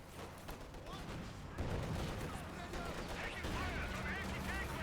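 Gunfire rattles in a Company of Heroes 2 battle, a dense volley of overlapping shots and distant booms at moderate loudness, with a voice talking over it.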